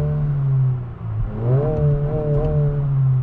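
A Honda Civic Si exhaust in sport mode gives a steady, close engine drone that rises slightly in pitch and stays loud throughout.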